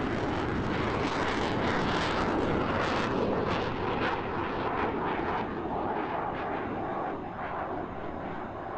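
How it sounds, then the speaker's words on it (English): An F-15 jet in a flight simulator game roars past, a loud, dense, continuous engine rumble and rush that swells and then eases slightly as it passes. "take a look at PT flying by his F-15"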